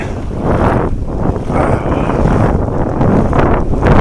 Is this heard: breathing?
no